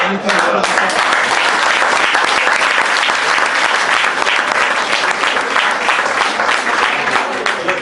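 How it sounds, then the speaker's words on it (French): A crowd at a Gilets Jaunes meeting in Segonzac, Charente, breaks into loud, sustained applause that fills the room without pause, with a few voices briefly audible under the clapping at the start. "Alors là, c'est nickel, on vous applaudit."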